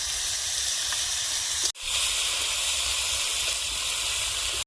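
Ginger garlic paste sizzles in hot oil in a pan for a Bengali taro curry, a loud, steady, close hiss with a brief break partway through; no talk.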